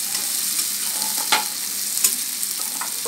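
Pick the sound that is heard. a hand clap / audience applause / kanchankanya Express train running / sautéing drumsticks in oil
sautéing drumsticks in oil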